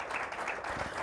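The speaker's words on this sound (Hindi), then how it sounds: "उसके लिए ज़ोरदार तालियां बजाएं।" A church congregation claps together at a gospel service, a brief burst of crowd applause with rapid overlapping hand claps, fairly close and full for about a second.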